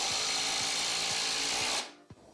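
A Maker Pro power tool driving screws into pallet wood whirs loud and steady for nearly two seconds, then stops abruptly, followed by a brief knock.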